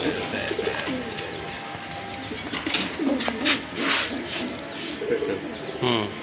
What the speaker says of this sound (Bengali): এটা হচ্ছে আপনার মাদি কবুতর।